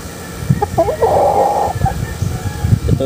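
A Boston sweater gamecock rooster crows once, a loud, close, drawn-out call lasting under a second, surrounded by short clucks and scattered farmyard bird noises.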